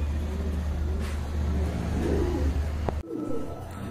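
Pigeons in a loft, a pair of Shaking pigeons kept for sale among them, coo softly under a steady low rumble of nearby traffic, with a sharp clack near the end.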